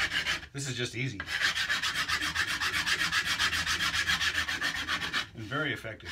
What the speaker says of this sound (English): Now you can do it with a file or a sander.